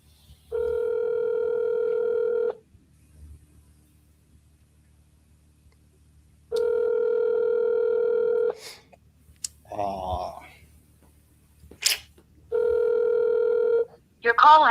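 Telephone ringback tone sounding in three long steady rings separated by pauses, with brief voice and clicking sounds between them, before a call goes to voicemail.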